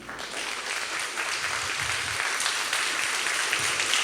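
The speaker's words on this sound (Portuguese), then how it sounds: "Aplauda Jesus." Sustained applause from a church congregation during a Portuguese-language sermon, steady and fairly loud clapping throughout with no talk over it.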